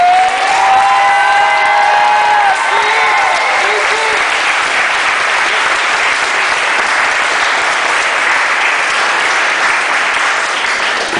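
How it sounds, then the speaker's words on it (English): A large crowd gives sustained applause for Jarad before his valedictorian speech, with dense steady clapping, a few whoops and whistles early on, holding loud throughout. "put your hands together for Mr. Jarad, our colleague."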